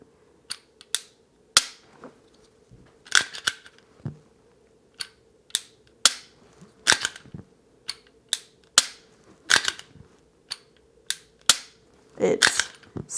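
A Glock 42 handgun with a sticking slide is dry-fired over and over, giving sharp crisp clicks and snaps in an irregular series, some paired or doubled, close and distinct over a faint steady hum.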